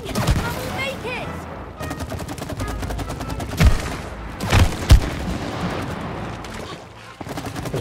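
Rapid gunfire bursts in the co-op video game It Takes Two, with a few louder booming shots standing out over a dense mix of game effects and music while players talk throughout.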